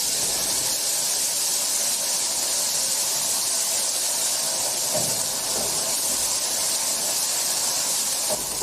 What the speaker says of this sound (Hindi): इसके बाद इसमें लहसुन अदरक का पेस्ट भी डाल लें और इसको भूनना शुरू कर दें